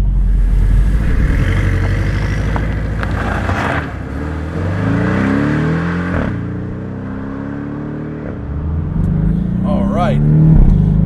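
A Porsche 718 Boxster S flat engine rises and falls through revs while driving on a back road in Portugal, sweeping pitch up with each gear, loud and close, with someone talking over parts of it.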